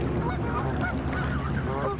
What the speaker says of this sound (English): Today, Hill has 400 resident Canada geese.